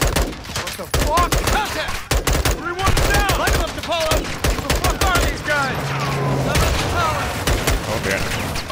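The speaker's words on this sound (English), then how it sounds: "Taking effective fire!" Intense Modern Warfare 2 campaign firefight, rapid machine-gun fire and single shots cracking almost continuously, loud and close, with soldiers shouting over the gunfire.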